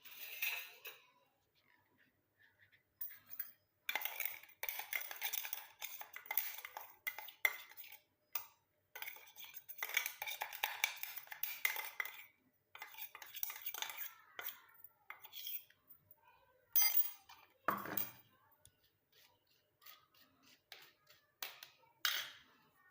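Powdered homemade herbal hair dye is sifted through a sieve, giving quiet, irregular bursts of scraping and rattling separated by short silences.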